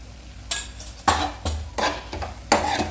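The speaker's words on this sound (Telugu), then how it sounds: "ఇలా వేసుకొని బాగా కలుపుకొని ఒక నిమిషం మూత పెట్టుకోవాలి." A spoon scrapes and knocks through dried fish curry with masala in a metal pan, five or six sharp stirring strokes in a loose rhythm, close and clear with no talk.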